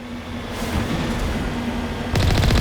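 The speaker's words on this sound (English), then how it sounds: "I love that explosion that takes place. That pop of blue." Sci-fi weapon fire and a blue burst of energy from the Mass Effect video game, with a continuous roar of gunfire-like noise and a sharper, louder crackling blast near the end.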